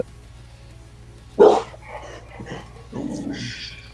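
A single sharp dog bark rings out once, followed by quieter voices talking in the background.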